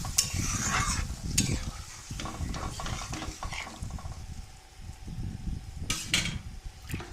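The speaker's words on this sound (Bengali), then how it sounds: "এবার সেদ্ধ করে রাখা লাউগুলো দিয়ে দিচ্ছি।" Boiled bottle gourd pieces tipped into fried spice masala for a rohu fish curry, stirred with a spatula in a pan, giving a steady close sizzle with scraping and clattering stirs.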